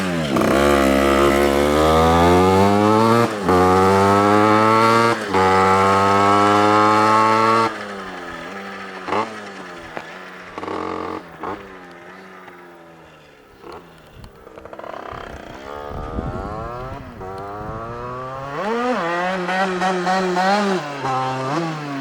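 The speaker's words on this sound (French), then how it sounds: "Je mets la deuxième et je la pousse et je la démarre." A kickless motorcycle push-started in second gear roars to life with loud, rising and falling revs up close, then idles and sputters unevenly before revving again.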